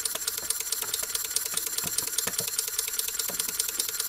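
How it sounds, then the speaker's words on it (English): Small live steam engine fitted to a toy John Deere Waterloo Boy tractor, running with a rapid, even clicking and clattering beat, close up and moderately loud, with no talk. "It makes a nice little clicking noise and clatters over"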